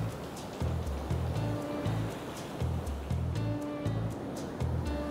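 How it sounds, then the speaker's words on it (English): Waves wash rhythmically onto a harbour shore at high water, each surge arriving roughly every half second to second as a low, repeated rumble, with a faint breezy hiss above and some nearby movement. "if these waves come any further up, I'll move up the harbour a little bit onto the calmer water"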